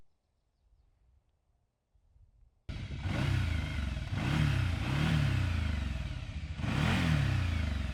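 After near silence, a TGB Landmax 1000 UTV engine starts pulling on asphalt, loud and close, rising and falling in pitch through several revving pushes as it accelerates.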